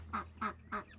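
Farm ducks, including a white female with a curly tail, quacking three times in a steady rhythm, nasal and close, with a low hum running underneath.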